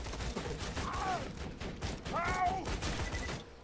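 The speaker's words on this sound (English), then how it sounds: "My turret's over there killing them." Turret gunfire in Borderlands 2, a rapid, dense fusillade of shots that runs continuously, with voices talking over the shooting.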